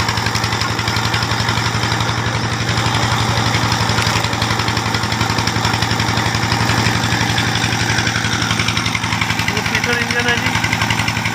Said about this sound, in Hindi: इंजन है जी